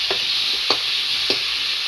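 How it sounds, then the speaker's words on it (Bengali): Fish frying in oil with turmeric and salt over a wood-burning stove, a steady close sizzle throughout with a few soft stirring scrapes at regular intervals. "তো দেখো একটু হলুদ লবণ দিয়ে ফ্রাই করে নিচ্ছি"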